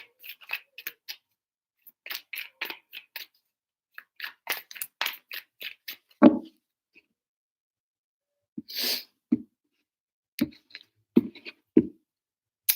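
Tarot cards being shuffled in several short rounds of quick, soft riffling and slapping, with scattered card taps between, close and quiet.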